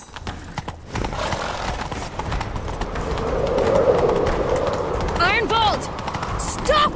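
Rapid hoofbeats of galloping horses pound steadily in the video game The Witcher 3: Wild Hunt, with a horse whinnying near the end and a voice speaking briefly.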